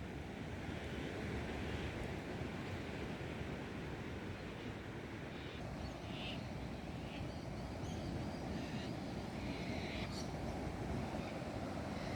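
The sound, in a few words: ocean waves at Umina Beach, Central Coast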